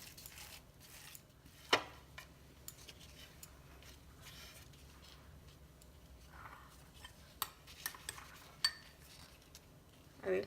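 A utensil clinks and scrapes against a bowl while sandwich filling is stirred with chaat masala. The sounds are quiet and intermittent, with a few sharper knocks over a low background.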